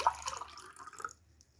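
Water poured from a cup into a glass makes a short, close trickle and splash that fades out within about a second.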